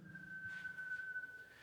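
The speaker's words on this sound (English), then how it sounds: "Who's whistling? That's quite creepy." A single steady whistled tone, held almost unbroken for over a second inside an underground radar bunker, thin and quiet with faint room echo and no talk.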